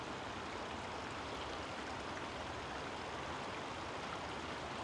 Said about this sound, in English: There's the creek right there for you.